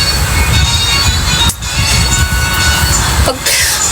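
Inside a Manila MRT train in motion, a steady loud rumble and rolling rail noise fill the ride, with faint wheel squeal and brief dips in the roar.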